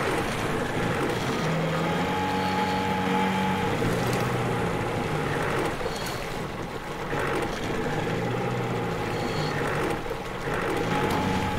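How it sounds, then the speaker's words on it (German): Motorboat engine in the video game Metro Exodus, a steady continuous drone with wind noise layered over it, holding at an even loudness throughout with no talking. "Aber hier können wir nirgends mal anlegen mit dem Motorboot."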